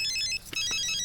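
A phone ringtone chimes in a repeating high electronic melody, loud and steady, with a brief dip midway before the tune resumes, heard in a Tamil film scene.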